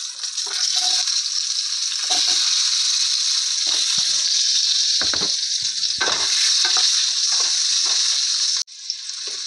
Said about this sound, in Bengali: তেলের মধ্যে আলুগুলো ভেজে নেব লাল লাল করে